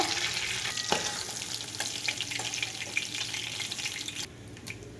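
Hilsa fish fry in hot oil, a steady, dense sizzle that stays loud and close for a few seconds with an occasional faint clink, then drops off sharply near the end.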